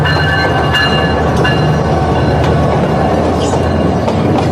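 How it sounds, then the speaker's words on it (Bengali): A train rolls past nearby beside a roadside fish market, a loud continuous rumble with rattling wagons, rhythmic clacks and faint squeal tones over the whole stretch. "এই যে দেখেন এই যে একটা ট্রেন যাচ্ছে"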